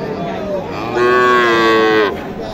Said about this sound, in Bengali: ও সুন্দর একটা গরু